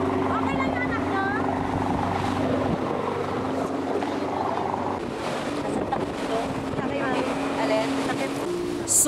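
Strong sea waves pound against a motorboat on open water, heard as a loud continuous roar of engine, wind and crashing water, with voices speaking over it.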